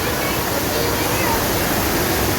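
A loud, steady roar of falling water from an indoor waterfall inside a shopping mall fills the space, dense and unbroken.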